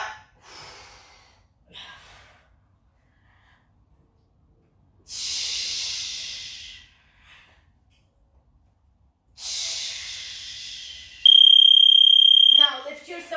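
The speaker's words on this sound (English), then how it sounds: "Breathe out." Forceful exhaled breaths during a dumbbell boot-camp workout come as a few long, loud hissing outbreaths separated by quiet pauses, with brief softer breaths and a beeping tone near the end.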